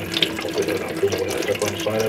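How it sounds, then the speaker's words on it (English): Cold tap water runs steadily from a faucet onto a glass bottle in a sink, a close, continuous splashing stream with faint background voices. "what we're doing now is we're just running cold water on it"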